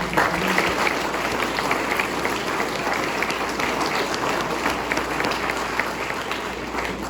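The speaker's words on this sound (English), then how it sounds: "So round of applause to those individuals" Sustained applause from attendees at a homeowners association meeting, steady and fairly loud throughout, with a few faint voices mixed into the dense clapping.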